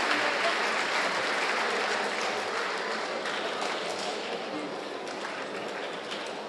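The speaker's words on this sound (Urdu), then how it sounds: "آپ کی تالیاں بڑھنی چاہیے۔" Audience applause after a speech, a steady wash of clapping that fades slightly toward the end, heard from a distance and fairly faint, with no speech over it.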